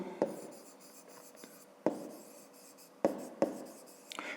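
A pen writes by hand in a notebook close up, quiet scratchy strokes punctuated by four sharp taps as the tip lands, in an otherwise silent room.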